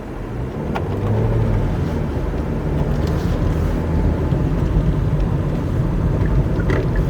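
Steady engine and road noise from inside a Hyundai Ioniq Hybrid as it accelerates through the gears, a continuous loud rumble with wind buffeting and no talking.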